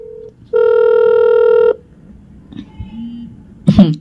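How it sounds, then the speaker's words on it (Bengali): A telephone line tone after a call is cut off: one steady, loud electronic beep lasting about a second, followed by near quiet with faint low bumps and a brief rustle at the end. "ফোন কেটে পালাচ্ছে এখন।"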